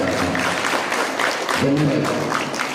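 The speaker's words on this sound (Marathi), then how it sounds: "एकदा जोरदार टाळ्या स्वतःसाठी" Applause from villagers and students at an Independence Day speech in a village, a steady broadband clatter of many hands lasting throughout, with a voice briefly heard over it.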